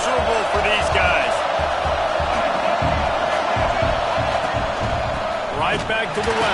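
Stadium crowd roaring in a college football video game (NCAA College Football 26), a loud continuous wall of cheering and noise throughout, with brief whoops rising near the end.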